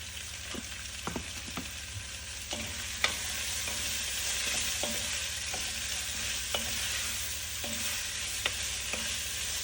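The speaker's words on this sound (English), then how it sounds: "I'm going to add the onions and the curry leaves and sprinkle some salt to saute them faster" Onions and curry leaves sauté in a pan, giving a constant close sizzle broken by intermittent scraping and clacking of a stirring spoon, with no voices.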